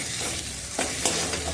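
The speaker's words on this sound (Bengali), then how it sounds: "তাই এবার এর মধ্যে ভেজে রাখা পটল আলুটা এবার দিয়ে দেবো।" Fried pointed gourd and potato pieces stirred into sizzling masala in hot oil for a curry leaf pointed gourd curry, a steady close frying hiss with a few scraping spoon strokes.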